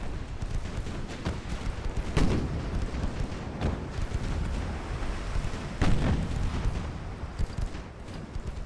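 Heavy naval guns boom in broadside salvos from warships in Ultimate Admiral: Dreadnoughts, a dense rumble of repeated blasts with two louder volleys standing out, no voices.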